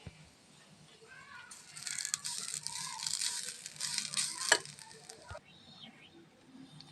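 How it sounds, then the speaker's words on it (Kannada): Freshly grated coconut frying in a pan for rava laddu, giving a soft hiss and patter with some stirring scrapes, quiet and close, a brief clatter near the end. "ಹಾಗೆ ಕಾಯಿ ತುರಿನ ಫ್ರೈ ಮಾಡ್ತಾಯಿದ್ದೀನಿ."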